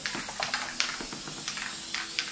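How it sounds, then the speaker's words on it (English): Basting spray is applied to a quilt in short hissing bursts, several quick sprays in an uneven rhythm, faint and close, with no talking. "and I spray the area"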